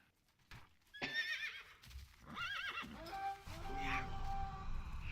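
Horse neighs and whinnies from World of Warcraft, several rising and falling calls followed by clip-clopping hooves that grow louder toward the end.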